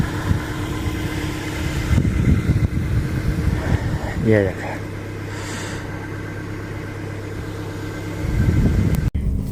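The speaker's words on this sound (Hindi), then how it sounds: "गाड़ी जो है गर्म हो रही है।" A car engine idles steadily in the background while it warms up outdoors, a low continuous hum running beneath someone speaking.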